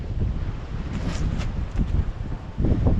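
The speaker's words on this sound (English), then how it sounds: "Ooh, that wind." Strong wind blowing outdoors, buffeting the microphone with a steady low roar and slightly stronger gusts near the end, with no speech over it.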